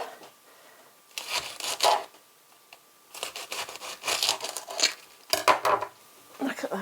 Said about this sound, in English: So the first thing I need to do is to shred this cabbage up finely.